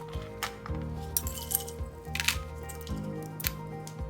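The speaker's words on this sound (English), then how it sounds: "Ice cubes." Ice cubes drop into a glass of freshly poured mint lemonade, giving several bright clinks and clatters at irregular intervals over a faint steady hum.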